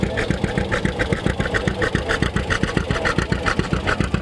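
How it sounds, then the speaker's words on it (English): A John Deere tractor engine passes close by with a steady, loud putt-putt pulse of rapid, evenly spaced firing beats. No voices are heard over it. "I want you to kind of listen to this tractor as it goes by"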